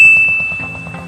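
A bright bell ding sounds right at the start of a subscribe-button sound effect and rings out as a sustained, slowly fading tone over a soft rhythmic backing.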